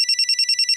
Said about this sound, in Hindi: ये देखो चेतना का फोन